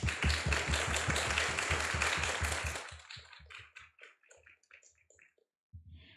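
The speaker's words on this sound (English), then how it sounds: "with a warm round of applause" A warm round of applause from the audience at a community chamber debate event, dense clapping for about three seconds, then thinning to scattered individual claps and a few last taps.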